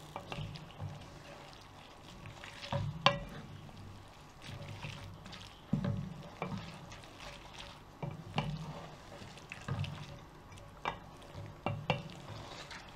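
Spaghetti being stirred into a thickening carbonara sauce in a pan: soft wet sloshing and scraping with occasional utensil clinks against the pan, fairly quiet and close, with no talking.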